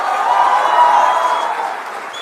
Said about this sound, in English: let us now welcome Tamil Nadu BJP President K. Annamalai to the podium with a huge round of applause